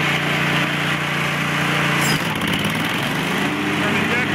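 A Scag 3-wheel 61-inch commercial zero-turn mower with an oil-cooled Kohler 22hp engine runs steadily at fast throttle, a loud continuous engine drone with a brief change in pitch midway.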